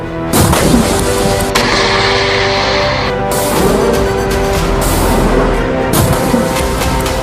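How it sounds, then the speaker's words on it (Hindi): Hezbollah missiles launched one after another, a loud, dense, continuous roar of repeated blasts and rumbling boom layered together, with several sharper surges of launch noise across the stretch. "हिजबुल्लाह एक के बाद एक कई मिसाइल फायर करता है।"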